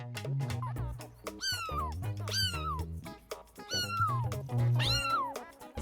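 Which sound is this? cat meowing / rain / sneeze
cat meowing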